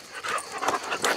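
Dogs panting inside a house in Italy: quick, rhythmic, breathy huffs close by, with a few soft whimpering tones mixed in.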